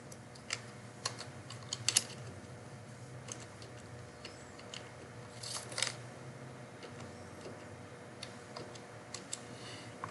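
Keys on a computer keyboard tap out a MAC address in a quiet room, with soft, irregular clicks and a few sharper, louder taps scattered across the stretch, and no voices.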